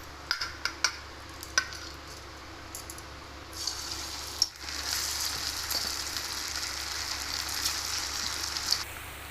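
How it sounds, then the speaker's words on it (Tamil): Chicken chilli bonda batter dropped into hot oil: a few sharp plops and clinks, then a steady, soft sizzle and bubbling of frying that carries on quietly with no talk. "இப்போ எண்ணெயில் போட்டுக்கலாம்"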